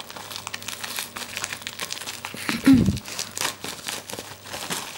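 Plastic AliExpress package being opened by hand, with a short burst of crinkling and tearing near the middle amid soft rustling, close and fairly quiet, with people talking around it.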